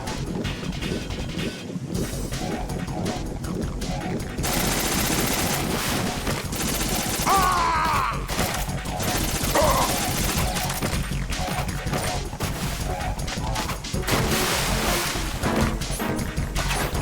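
Metal Gear Solid 2 gunfire, with shots and crashing impacts clattering steadily over a dense, loud game soundscape for the full length.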